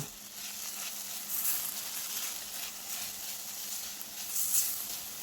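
Coriander powder and salt fry in a pan as they are stirred, a soft, steady sizzle with a couple of brief, brighter hissing swells, fairly quiet and with no talking.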